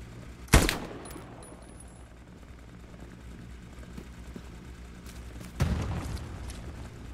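Two loud gunshot bursts in the World War II shooter Hell Let Loose, one early and one near the end, with a quieter stretch of distant battlefield rumble between them.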